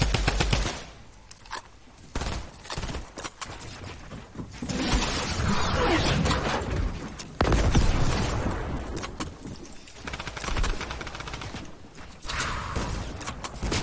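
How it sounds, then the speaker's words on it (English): A drum gun firing in a wild-west-themed shooter video game, bursts of rapid automatic gunfire broken by short pauses, loud and close without talk. "Guess who has a drum gun this time?"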